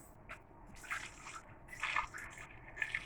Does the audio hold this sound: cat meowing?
no